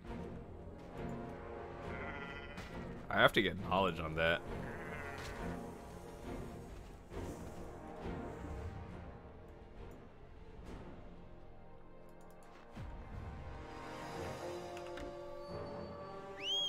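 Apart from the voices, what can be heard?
Drieghan female goat bleating, Black Desert Online video game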